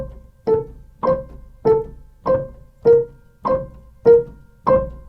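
Piano arpeggio combinations are played at a fast metronome tempo of 100, heard as eight evenly spaced, resonant note clusters that each ring and decay before the next, close and clear with no talking.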